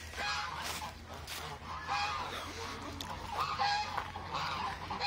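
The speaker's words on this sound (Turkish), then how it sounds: "Her yer kaz olmuş arkadaşlar." A large flock of about 150 domestic geese and ducks honks in a yard, overlapping nasal calls rising and falling continuously, close and busy, with no talking.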